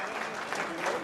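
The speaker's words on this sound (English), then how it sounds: "it draws a large applause from the big crowd over here" Large crowd applauding a winning shot at a carrom cup final in Pune, steady dense clapping throughout at moderate volume, with faint speech mixed underneath.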